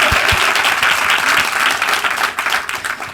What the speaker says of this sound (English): can we have another round of applause for it?